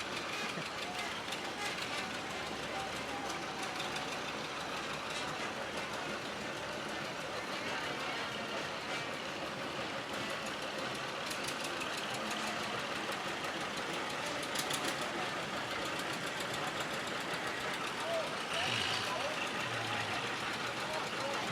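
Tractor engines rumble past during the 2017 Gladiolus Days Grand Parade, a continuous low drone from nearby machines with a faint horn-like tone, heard under crowd noise and a commentator talking.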